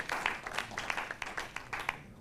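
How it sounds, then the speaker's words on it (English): An audience applauding a doctor after a talk on a prostate cancer treatment, a brief burst of scattered clapping at moderate distance that thins toward the end. "Let's give Dr. Barnswell another round of applause."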